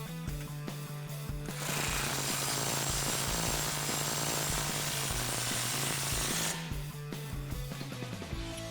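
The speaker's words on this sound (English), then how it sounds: "we can tighten that up with the same thing we took it off with an 18mm wrench and an 18mm socket" A shock nut is tightened on a Jeep Wrangler JK front Teraflex FOX 2.0 shock with an 18mm socket, heard as a loud, close buzzing power-tool rattle bracketed by rapid clicking, with a continuous burst in the middle.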